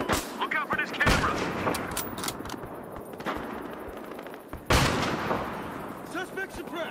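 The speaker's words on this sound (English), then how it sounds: "Taking heavy fire!" Gunfire in the video game Battlefield Hardline, loud bursts of shots with heavy booming blasts and echoing reports, while voices shout in the game.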